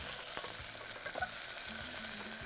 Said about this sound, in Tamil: இதையும் போட்டு நாம வதக்கிடுறோம்.